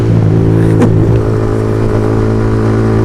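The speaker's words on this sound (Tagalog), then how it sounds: "Pakalakas ng motor natin, no?" A Yamaha XSR155 motorcycle engine revs loudly and close, holding a steady, strong mechanical drone with a brief rising rev blip near the start.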